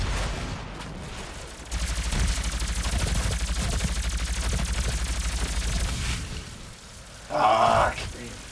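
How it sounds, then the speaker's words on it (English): Gunfire from the Gauss rifle in the DOOM open beta, a sustained dense roar of shots over several seconds, followed after a brief lull by a loud, bright burst near the end. "That was the Gauss rifle, that's what it is."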